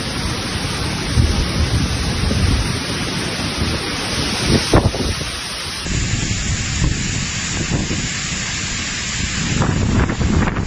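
A heavy thunderstorm with pouring rain batters Milan, a dense roaring wash of rain and wind with rolling thunder underneath, loud and continuous throughout.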